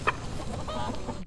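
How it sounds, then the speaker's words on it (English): Chickens cluck and squawk close by over a dense, noisy farmyard background in the TV series Fallout, with one sharper call near the start. "Chickens."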